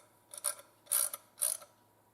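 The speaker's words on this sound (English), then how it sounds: "then you can just snug that into place" A nut being snugged onto a bolt of a car exhaust system, with a flat washer and lock washer, producing three short metallic ratcheting bursts close by, with quiet gaps between them.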